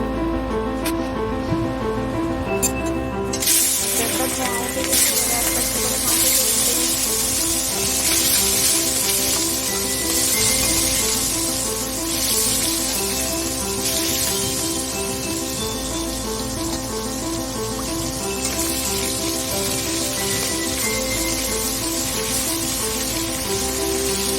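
Surmai fish frying in oil in a pan, a steady bright sizzle and crackle running throughout with a sudden louder burst early on, accompanied by a droning background hum.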